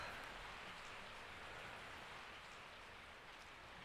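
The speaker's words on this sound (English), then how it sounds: "I woke up to the sound of falling rain." Steady rainfall in the video game Resident Evil 3: Nemesis on the Dreamcast, a soft, even hiss of falling rain that carries on unbroken at a low, distant level with no voices.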